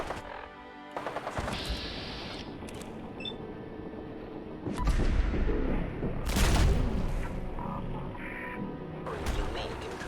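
Gunfire in Fallout 4: a sharp report, then a break, then rapid bursts of shots with loud booming impacts in the middle of the stretch, mixed with other game effects.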